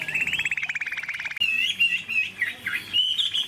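A large-bodied Chinese hwamei songbird sings loudly up close, first in a fast repeated chattering trill, then in bright, shifting whistled phrases that run on without pause.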